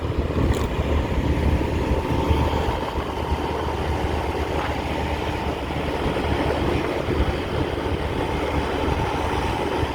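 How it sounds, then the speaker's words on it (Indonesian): An airport train rumbles past nearby, a steady low roar with rattling wheels holding at a constant loud level throughout. "Kereta api bandara itu ya yang di kiri sana."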